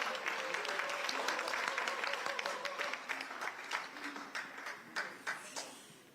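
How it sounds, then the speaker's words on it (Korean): Audience applause welcoming the new prime minister at a gathering of Democratic Party lawmakers, many hands clapping at moderate distance with sharp individual claps standing out as the clapping thins toward the end. "큰 박수로 맞이해 주시기"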